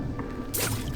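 A wet, squishy drip of blood in Diablo 3 with the Necromancer, a short liquid splat landing midway through a quiet ambient game backdrop.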